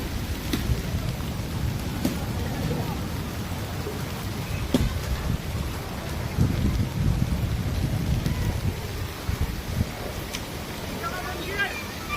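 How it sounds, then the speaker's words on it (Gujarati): Heavy rain pours down with dense, hard pattering like falling hail, over a low rumble, with indistinct voices mixed in. "હાલમાં વરસાદ ચાલુ છે અને કરા પડવાનું પણ ચાલુ છે"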